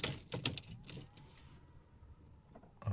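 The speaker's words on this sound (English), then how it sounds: "Switch ignition on." Car keys jangle in a short burst of metallic clinks as an ignition key is turned, followed by a quiet stretch of faint cabin hum, with another brief jangle near the end.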